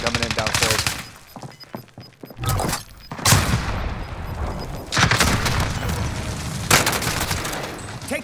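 Rapid bursts of close automatic gunfire from Call of Duty on Rebirth Island rattle in loud volleys with booming impacts, and a voice talks between them.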